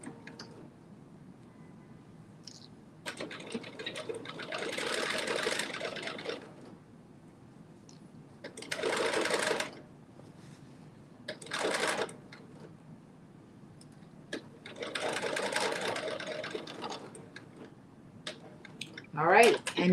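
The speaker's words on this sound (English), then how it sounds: "I'm doing the basting stitch right now" A sewing machine sews a basting stitch across dress bodice front pieces, several short close bursts of stitching separated by quiet gaps, with a voice talking at times.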